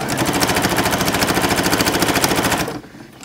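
A sewing machine stitches a Harry Potter quilt with a fast, even mechanical chatter, loud and close, running steadily before stopping abruptly near the end.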